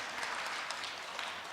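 A church congregation at a Sunday service clapping together, a steady, fairly soft patter of many hands at a distance with no pause.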